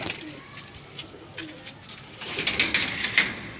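Pigeons cooing at a Ferozpuri pigeon show, soft low coos repeating amid crowd murmur and scattered higher bird calls, growing busier and louder toward the end.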